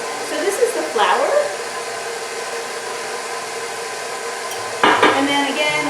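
An electric mixer stirs muffin batter with vanilla, a steady whirring drone running the whole time, with a couple of brief louder clatters near the start and toward the end.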